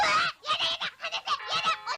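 A goose in an animated cartoon honks in a quick run of loud, nasal, close bursts, about six short calls in two seconds.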